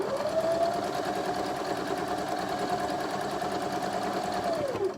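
Sewing machine stitching the straight seams of a Card Trick quilt block runs steadily and alone for about five seconds, a close, continuous whirring hum that winds down at the end.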